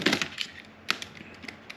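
Packaging around new wheels is cut open, giving faint crackling, snapping and rustling bursts with a few sharper clicks scattered across the moment, close and quiet, with no talking.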